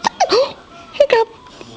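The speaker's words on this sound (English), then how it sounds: "Look at those hiccups." A baby hiccuping up close, several short voiced hiccup bursts in two small clusters with brief vocal sounds between them.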